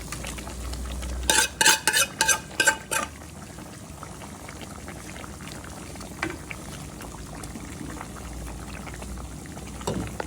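Fish curry with potato and tomato bubbles in a pot, a low continuous simmer opening with a burst of several sharp clinks and knocks as a utensil works the pot, then quieter bubbling and faint stirring, with no talk.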